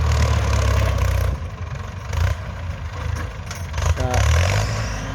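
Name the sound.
Ford 6600 tractor engine running while plowing clay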